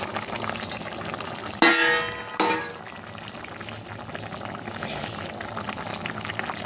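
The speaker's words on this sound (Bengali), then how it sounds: "ঝোলটা ফুটে গেছে" A thin fish curry gravy with vegetables bubbles in a pan with a low, steady simmer, broken early on by two sharp metallic clinks close by.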